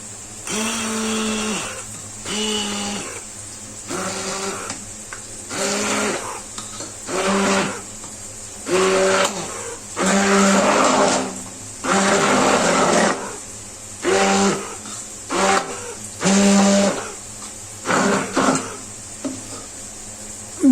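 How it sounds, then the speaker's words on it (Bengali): A blender whirs in repeated short bursts blending boiled lentils, starting and stopping in an irregular rhythm over a low steady hum, with no talking. "ডালটা এখন ব্লেন্ডার করে নেবো"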